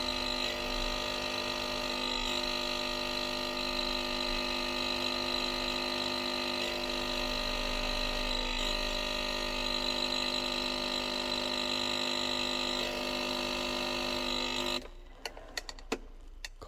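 Nespresso coffee machine brewing while powered from a car battery through a 2000 watt inverter, giving a steady loud pump hum and whine that holds for about fifteen seconds, then cuts off into quiet clicks.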